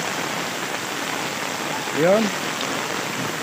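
Heavy rain pours in Bicol, a dense, steady hiss filling the whole stretch, with a brief spoken word rising over it midway.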